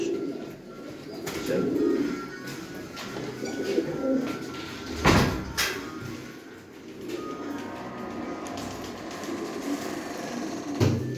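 Pet birds kept as a hobby coo softly and repeatedly at close range, over a low background murmur broken by occasional clatters and knocks.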